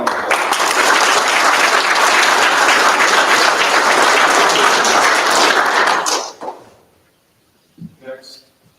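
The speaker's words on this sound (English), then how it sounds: "Let's give them a round of applause." A crowd applauds loudly and steadily at a Masonic lodge officer installation ceremony for about six seconds, then the clapping fades out and a few brief sounds follow.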